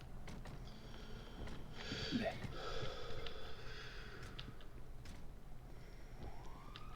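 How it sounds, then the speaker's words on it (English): Faint ambulance sirens wail in the distance, their rising and falling tones drifting over a low background rumble. "More ambulances."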